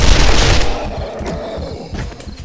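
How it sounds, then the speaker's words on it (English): Modded gun in a video game firing rapidly, a loud dense stream of shots at the start that fades into trailing echoes and a few scattered later bursts. "See how fast it shoots?"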